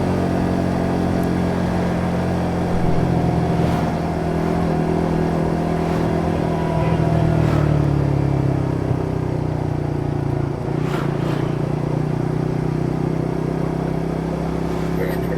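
A motorcycabout two years old rides along a road in Indonesia, its engine a steady mid-pitched drone with slight rises in revs, joined by wind rumble under the continuous sound of riding.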